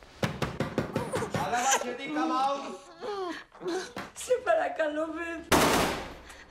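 A rapid burst of gunfire in a film about the Mumbai hotel attack crackles at the start, followed by a baby's wailing cries and a final sharp blast.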